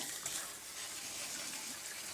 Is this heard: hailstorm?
no